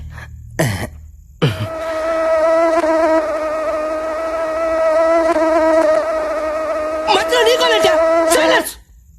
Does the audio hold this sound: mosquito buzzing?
yes